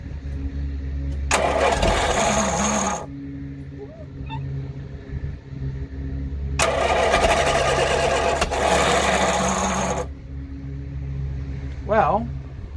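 A small petrol engine on full choke is cranked in two long bursts of loud, rattling whirring, with a low mechanical hum running underneath and a short pause between the attempts.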